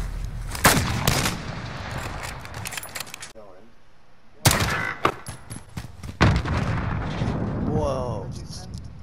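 Gunfire in an online shooter video game, sharp repeated bursts and cracks scattered through the clip alongside clattering game noise and chatty voices talking over it.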